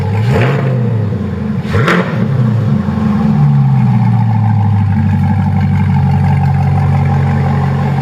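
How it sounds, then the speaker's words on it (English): A loud Chevrolet Corvette C8 convertible exhaust revs twice in quick bursts, then settles into a deep, steady rumble close by with no talking. "You know your exhaust is loud enough when it sets the truck alarm off."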